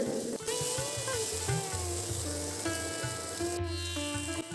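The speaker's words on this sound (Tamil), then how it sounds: "எல்லாத்தையும் நல்லா வதக்கியாச்சு" Turkey berry chutney ingredients sautéing in a pan, a continuous moderate sizzle with stirring scrapes and a faint tonal hum, close by and without speech.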